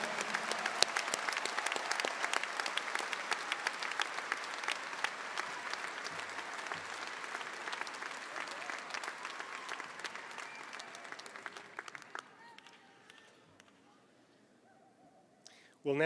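Large audience applause at a university commencement ceremony, a dense sustained roar of clapping that fades out gradually toward the end, ending in near quiet.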